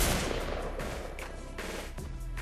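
Automatic weapon fire in Fortnite on Android rattles in rapid repeated bursts, loud and dense throughout the short stretch, with no talking over it.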